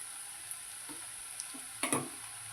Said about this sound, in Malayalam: ഇഞ്ചിയും വെളുത്തുള്ളിയും നന്നായിട്ടൊന്ന് മൂപ്പിക്കണം